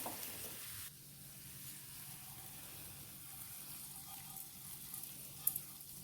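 An onion and curry leaf tempering crackling and sizzling in hot oil as it is stirred, then poured into a fish mango curry, giving a soft steady hiss with a brief louder splash near the end and no talking.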